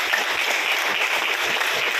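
An audience at a business success gathering claps steadily, a dense continuous patter of many hands with no voices over it.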